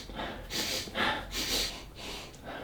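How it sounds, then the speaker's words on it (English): Close, loud sniffs at an Adidas Dame Certified basketball sneaker, about four or five sharp nasal inhalations in quick uneven rhythm, with no talking. "Sniff test."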